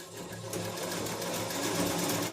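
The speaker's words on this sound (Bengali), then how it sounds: "দেখি সেলাইটা করেই দিই" Sewing machine stitching at a steady fast rhythm, a continuous whirring chatter close by that grows slightly louder.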